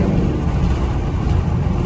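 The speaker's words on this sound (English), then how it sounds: "2011 Mustang GT with sport mode." A 2011 Ford Mustang GT in sport mode drives along with a steady, loud low engine drone and road rumble, close and continuous throughout without voices.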